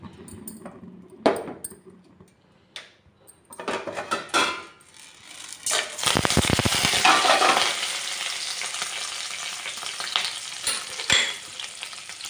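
Cashews and curry leaves tempered in hot ghee, with a loud, sustained sizzle and crackle building midway and continuing under scattered clinks of a spoon against the pan.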